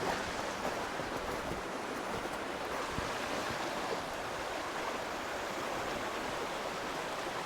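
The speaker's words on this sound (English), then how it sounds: "It's all still covered in ice and the water's flowing over it." Floodwater rushes over ice beneath a bridge during a windstorm, making a continuous, loud, broadband roar of churning water with no breaks, mixed with wind.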